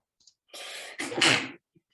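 A single sharp sneeze, close and clear, with a brief inhale before the burst and silence afterward.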